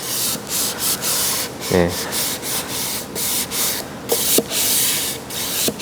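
Sandpaper rubs by hand over a glued-up wooden plant stool in repeated close back-and-forth strokes, steady and scratchy, with a brief spoken word partway through.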